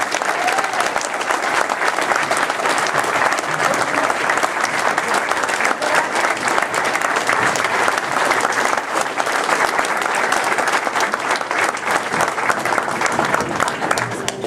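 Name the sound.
applause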